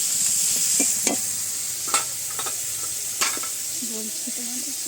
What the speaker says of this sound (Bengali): মাছগুলো কড়াতে দিচ্ছিলাম